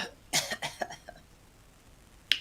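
A short run of dry coughs, four or five in quick succession that fade off, then one last sharp cough after a pause, close and fairly quiet.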